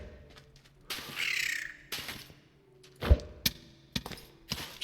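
Vultures in a modded Cities-style desert dome build: harsh, crow-like caws and croaks come in several bursts close by, mixed with soft thumps, with no talk.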